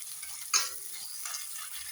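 Chicken bharta masala of onion, ginger and garlic stirred and frying in a pan, a soft steady sizzle with a sharper scrape of the spoon midway, no talking.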